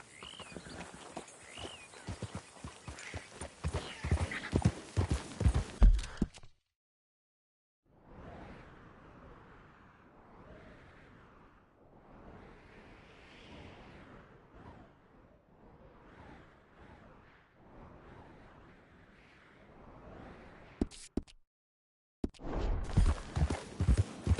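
In Red Dead Redemption 2, horse hooves clip-clop in a quick rhythm, then fall silent before softer shuffling steps and rustles during grooming, with the clopping returning near the end.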